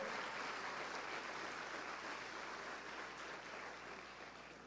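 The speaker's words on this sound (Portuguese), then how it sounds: "Pode aplaudir o Senhor." A church congregation applauds in a steady, dense wash of clapping that slowly fades, heard at a moderate distance with no speech over it.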